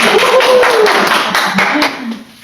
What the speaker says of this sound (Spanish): Bueno, un aplauso que llegó